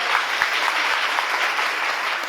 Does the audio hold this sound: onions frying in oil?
no